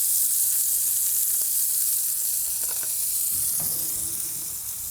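Ribeye steak searing in a hot cast iron pan, a steady close broadband sizzle that runs throughout and eases slightly near the end, with a few faint clicks and no talk.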